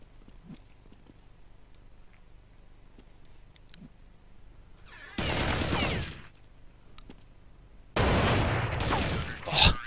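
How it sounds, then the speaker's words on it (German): Bursts of automatic gunfire from a Counter-Strike match on de_tuscan ring out in two loud sustained volleys after a quiet stretch, with a commentator speaking German. "Oh, schöne Schuss noch von Dossier"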